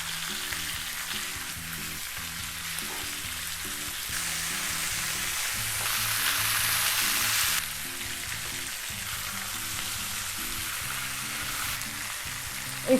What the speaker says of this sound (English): And we're going to continue cooking it with garlic.